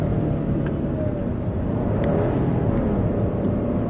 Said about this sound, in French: Ah bah le V6 chante pas trop mal.